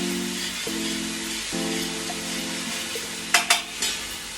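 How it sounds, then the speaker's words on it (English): Ingredients for lamb biryani sauté in a pan with a soft, steady sizzle and a low hum underneath, and a few quick utensil clinks against the pan near the end, with no talking. "A nice saute. You don't want to fry it totally."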